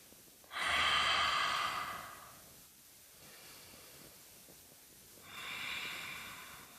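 Deep yoga breathing during a seated twist: two long, loud, airy breaths close to the mic, each a drawn-out rush of air, separated by a few seconds of quiet room tone.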